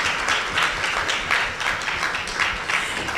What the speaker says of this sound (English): Keep clapping, she's not seated yet.